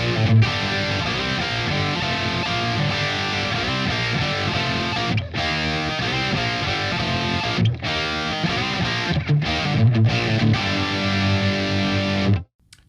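Distorted electric guitar playing the chorus riff of a song slowly, thick overdriven power chords with a few brief gaps, loud and continuous before cutting off at the end, no voices.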